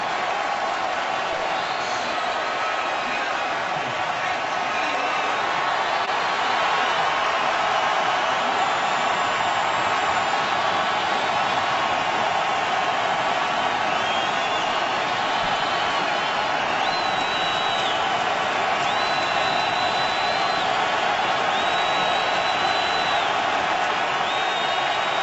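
A large crowd at an Oakland Raiders home game against the Tampa Bay Buccaneers roars and cheers continuously, a dense, loud wall of noise with scattered whistles and whoops throughout.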